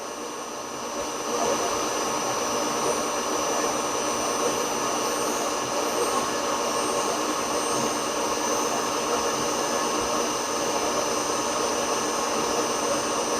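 A cutter squares an engine cylinder on a machine, giving a steady, even whirring grind that holds at one level throughout, close by with no talking.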